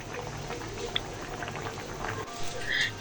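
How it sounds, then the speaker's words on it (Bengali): Hilsa fish and sweet pumpkin simmer in a covered pot, giving a steady low bubbling and popping with occasional sharper spits and a faint background hiss. "মাছটা ভালো মতন একটু সেদ্ধ হোক"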